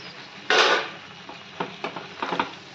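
Fried chicken tipped into a hot pan, one loud burst of sizzle followed by several short scraping and clattering stirring sounds, close by, with no voices.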